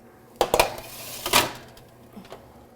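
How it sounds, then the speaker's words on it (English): A tray of cauliflower slid onto the bottom rack of an oven, producing a quick run of metallic clatters and scrapes, then a softer knock as it settles. "And into the oven these go. I'm going to put these on the bottom rack."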